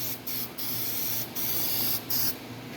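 Gasket adhesive hisses from an aerosol can onto the cleaned oil pan of a classic Pontiac, several short close spray bursts with brief pauses between them.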